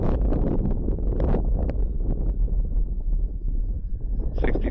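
Gusty wind buffeting a microphone at an RC flying field where a Warbird model is flown, loud low rumbling blasts that swell and ease across the whole stretch, no clear talk.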